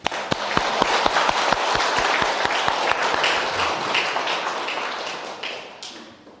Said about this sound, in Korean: 우리 환영의 박수.